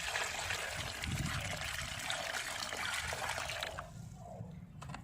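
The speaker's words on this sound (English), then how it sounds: "Let's add water." Water pours and trickles steadily into a red sand and cement mix, a soft continuous splashing up close that eases off near the end.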